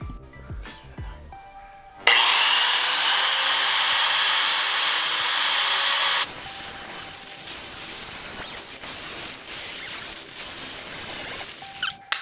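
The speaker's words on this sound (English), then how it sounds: "We're just gonna use the angle grinder to scratch up this area" An angle grinder scuffs a cracked Honda S2000 car bumper before Bondo is applied. It starts with a loud, harsh, steady whine for a few seconds, then gives way to quieter grinding and scraping.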